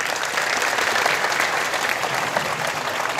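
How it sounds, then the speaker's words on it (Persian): Audience applause at a student quiz contest after a correct answer, steady dense clapping throughout, fairly loud and close, with no speech over it. "تشویقش کنید"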